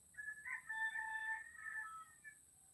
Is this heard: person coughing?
no